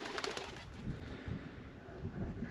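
Birds cooing like pigeons or doves, heard from above a deep outback hole at an old gold mine in the Flinders Ranges, with soft repeated coos under steady breezy noise.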